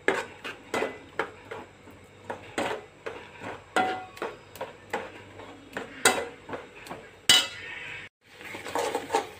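A metal spoon stirs pepper paste in a cooking pot, knocking and scraping the sides in repeated clanks at an uneven rhythm, close and loud with no talk.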